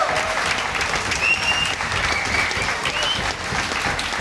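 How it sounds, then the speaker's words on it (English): A crowd at a combat sports event applauds after the main-event fight, the clapping loud and continuous throughout, with a few faint shouts and whistles rising above the steady roar. "big round of applause to an awesome main event."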